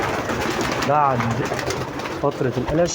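Homing pigeons coo softly and repeatedly in a loft, close by, under someone speaking over them.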